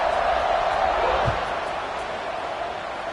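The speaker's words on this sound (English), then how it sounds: "this crowd is buzzing after that last score" A football stadium crowd buzzing after a score, a broad steady roar of thousands of voices filling the air, loud and continuous with a faint low thump partway through.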